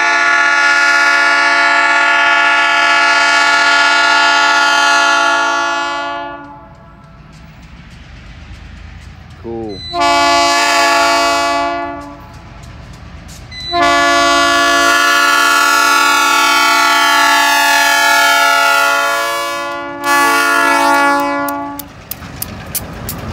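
A train horn blasts in long, loud repeated soundings as a heavy rock train on the Cincinnati Eastern Railroad, led by two GP15 diesel locomotives, approaches and rumbles past, with rail noise beneath the horn.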